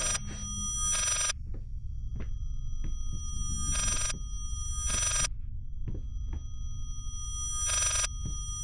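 An old telephone rings in the horror game Layers of Fear, sounding in three repeated bursts with gaps between them, over a low rumbling ambience and soft scattered knocks.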